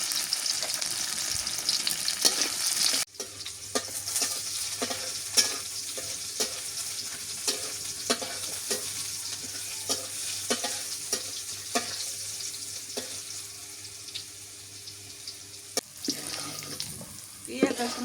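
Oil frying and sizzling in a cooking pan, a steady crackling hiss with repeated scraping stir strokes, close and fairly loud throughout, with a louder burst near the start.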